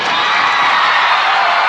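A dense, loud roar of a wrestling arena crowd cheering in 1986, steady and continuous with no pauses.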